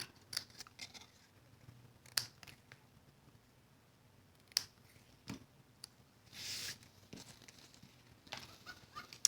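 Scissors snip along the edge of a paper tree cutout for a handmade card, with faint, irregular cuts and light paper rustling close by.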